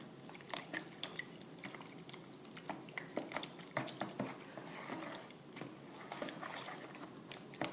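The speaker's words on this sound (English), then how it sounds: "I'll take my spoon here, and I'll start stirring it up." A spoon stirring wet bread dough of flour, yeast and sugar in a bowl, making soft, continuous squelching and sticky clicking sounds close by at a low level.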